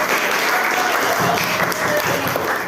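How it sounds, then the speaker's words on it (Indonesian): Ninth-grade class applauding students' practical science exam projects, a dense continuous round of clapping filling the room, with faint voices underneath. "tepuk tangan dulu untuk semuanya"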